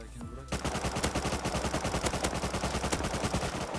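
Rapid automatic gunfire in the video game Rust, a fast, even stream of loud shots running for several seconds after a brief moment of voices.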